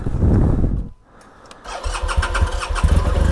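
BMW GSA motorcycle engine: a rumble fades to a brief lull, then the starter cranks and the engine catches and settles into a steady, loud close idle with some throttle.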